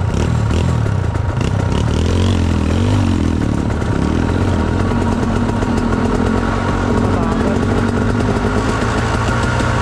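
An enduro dirt bike engine runs loud and close on a trail ride, rough idle with blips of revving and mechanical clatter throughout, no talk over it.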